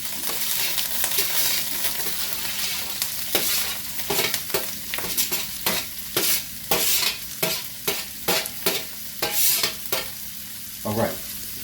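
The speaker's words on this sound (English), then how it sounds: "Here at the stove, I'm gonna put in all my veggies in the skillet." Vegetables sautéing in a skillet on a stove, a constant hiss of sizzling grease overlaid by a rhythmic series of sharp scraping strokes from stirring, close and fairly loud with no voices.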